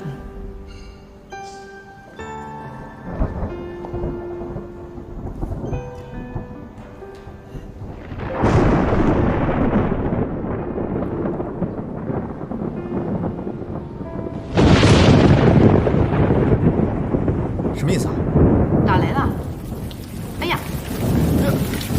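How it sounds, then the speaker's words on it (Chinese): Heavy rain pours down with rolling thunder, growing louder partway through as the downpour intensifies. "下雨了"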